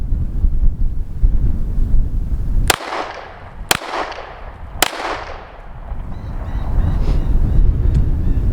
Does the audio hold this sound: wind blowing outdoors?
yes